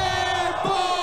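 A live crowd roars and cheers at a freestyle rap battle event, a dense sustained wall of voices that stays loud throughout the short moment.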